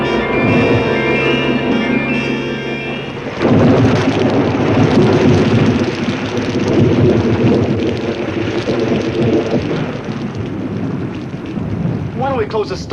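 A loud thunderstorm-with-rain sound effect sets a dark, stormy night, a continuous heavy rumble and wash of rain that fills the scene after a brief musical opening.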